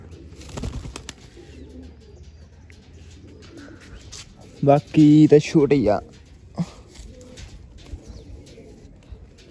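White-eyed pigeons coo in the background while someone talks over them, with a louder burst of sound midway through.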